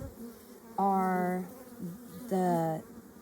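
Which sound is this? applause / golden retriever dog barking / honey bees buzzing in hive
honey bees buzzing in hive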